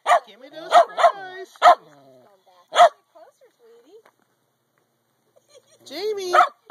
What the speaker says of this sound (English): I'm trying to get a bark like she does